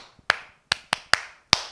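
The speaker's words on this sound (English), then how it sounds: "Clap for yourselves." Children in a nursery phonics class clap for themselves: five sharp, distinct claps in an irregular rhythm, close and moderately loud, with silence in between and no talking.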